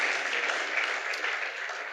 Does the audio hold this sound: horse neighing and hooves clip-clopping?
no